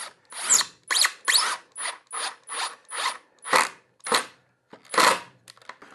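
A screw driven into a wooden tenon jig for a table saw, heard as a series of about a dozen short, sharp ratcheting bursts from a power driver, close and loud with brief gaps between.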